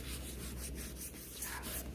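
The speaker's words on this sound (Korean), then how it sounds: "지금 이 휴지에 묻어져 있는 걸 가지고 배경톤도 같이 쓱 같이 문질러 보죠" A tissue carrying charcoal dust is rubbed across drawing paper to lay down a soft background tone for a horse sketch, giving a faint, steady, close-up brushing and scuffing with no voices.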